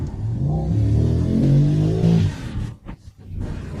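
A Mercedes Maybach SL 680 roadster in sport mode revs hard, its engine note climbing loud and close for about two seconds, then dropping away into a couple of sharp dips and a quieter idle.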